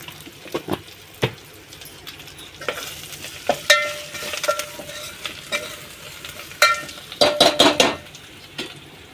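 Tomatoes frying in a pan for tomato red dal, stirred with a utensil that taps and scrapes the metal in irregular bursts over a low sizzle, close up.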